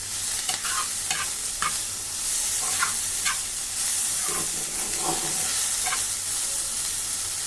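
Long beans and ground black pepper sizzle in a hot pan for Chinese mixed fried rice, a steady hiss broken by repeated scraping stirs of the spatula, close and fairly loud.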